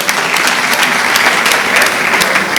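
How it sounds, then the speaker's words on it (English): Loud, dense applause from a law conference audience, many hands clapping steadily with crisp individual claps standing out, close and sustained without pause. "A round of applause for the Lanet Silk."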